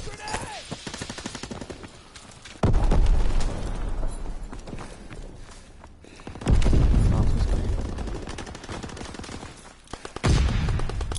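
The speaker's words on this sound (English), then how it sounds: "Throwing grenade!" Grenade explosions and gunfire in a World War 2 shooter game, with heavy booming blasts at intervals amid steady crackling small-arms fire, loud and close.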